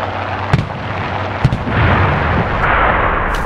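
Gunfire and explosions from the World War II shooter game Enlisted: loud sharp shots punctuate a heavy rumbling barrage, with distant booms and bursts rolling continuously and no voices.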